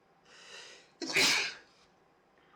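Indoors, one person lets out a single sneeze: a breathy intake, then a loud, sharp burst that tails off into quiet.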